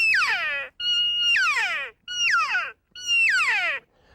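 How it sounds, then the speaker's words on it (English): A rubber-tube lonesome cow elk call blown by biting down and pushing air through, giving four drawn-out nasal calls, each opening on a steady high note and sliding down into a whiny, mew-like tail, with short gaps between them and no talk. "Another call we have is a lonesome cow call, a little bit easier to blow."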